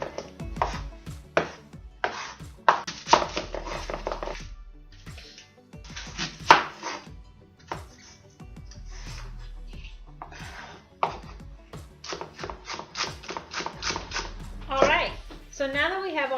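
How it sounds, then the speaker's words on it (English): Rapid knife chopping of vegetables for bean soup on a cutting board, crisp repeated cuts in quick bursts with pauses between them, close and clear alongside someone talking. "now that we have all the vegetables all cut up for our bean soup"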